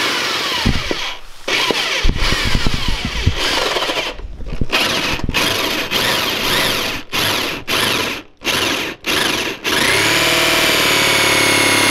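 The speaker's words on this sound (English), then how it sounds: "That lets it drill down." A power drill whirs and grinds loudly, cutting in and out in bursts with brief pauses, then runs in a steady high whine at the end.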